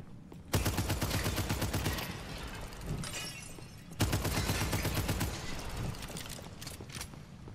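Rapid automatic primary-fire bursts from a weapon in the shooter game Abyssus, two long rattling volleys of close, dense shots separated by a brief pause, with mechanical clatter between them.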